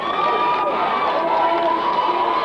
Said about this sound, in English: An almighty round of applause there for the Gerald Griffins team as they walk off for the half-time break.